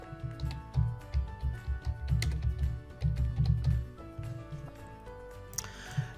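Someone types a short message into a web app on a computer keyboard, giving close, rapid key clicks in uneven bursts with brief pauses and a faint background hum.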